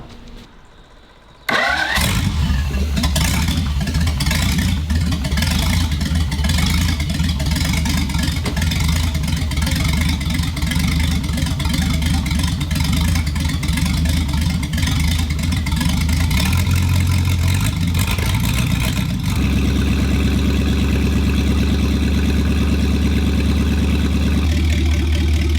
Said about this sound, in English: Right, let's fire her up. It's going to be noisy, Stuart.